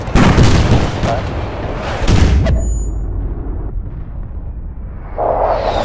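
An aircraft gun run in Battlefield: Bad Company 2 sets off loud, close explosions, two heavy blasts in quick succession followed by a rumbling decay and another burst at the end.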